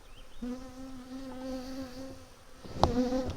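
A honey bee buzzes loudly close by with a clear droning tone amid a hive's background hum during an inspection, then a sharp knock near the end.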